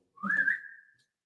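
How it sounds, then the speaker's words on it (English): A single short whistle from a person at a season-end awards show, rising quickly then holding a steady tone for about a second, fairly faint and alone. "Somebody's whistling to us, I think."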